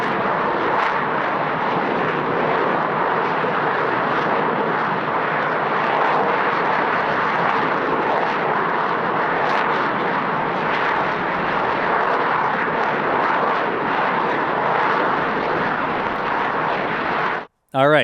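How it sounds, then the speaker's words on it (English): SpaceX Starbase Booster 19 rocket static fire with the tank farm water deluge: a loud, continuous roaring rumble that holds steady for many seconds before cutting off abruptly near the end. "Let's listen in to the sounds of the static fire to make sure everybody is awake"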